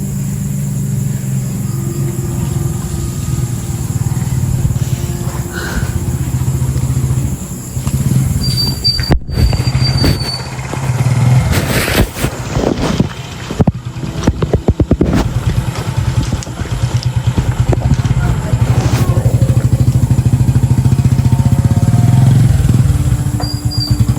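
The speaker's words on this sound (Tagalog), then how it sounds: "May nakamotor." A motorcycle engine runs steadily at night in a rural setting, a continuous low drone that swells louder toward the end, with brief sharp knocks and rustles in the middle.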